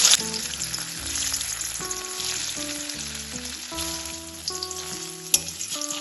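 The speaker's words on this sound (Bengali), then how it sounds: "এখন আমি দিয়ে দেবো এর মধ্যে পনিরের টুকরোগুলো" Paneer pieces hiss and sizzle steadily in hot mustard oil in a wok, with a sharp crackle near the end and background music playing throughout.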